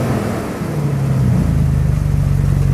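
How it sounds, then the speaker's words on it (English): A Dodge Cummins mud truck on 44-inch bogger tires approaches along a dirt trail, its deep diesel engine rumble growing steadily louder and closer, with no talking over it. "Oh, I hear something big coming down the trail."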